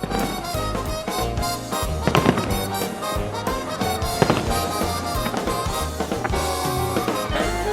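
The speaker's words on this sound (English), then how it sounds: "Firework displays never run short in Malta." Fireworks pop and bang in a dense, continuous barrage in Malta, with music playing loudly underneath.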